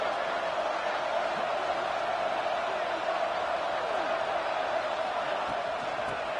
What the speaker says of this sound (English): the crowd really making some noise now, trying to help out this defense to get this stop near the goal line